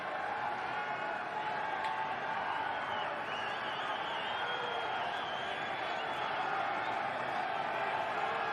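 Baseball stadium crowd during a Cardinals vs Reds game, a steady distant murmur and rising hum of many voices, continuous and moderate in level, with no sharp cheers standing out.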